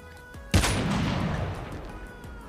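A single loud sniper rifle shot in Call of Duty Mobile, a sharp blast followed by a long rolling echo that fades out over a couple of seconds.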